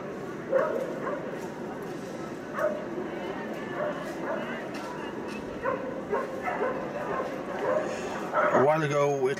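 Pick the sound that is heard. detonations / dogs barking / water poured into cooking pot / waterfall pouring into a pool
dogs barking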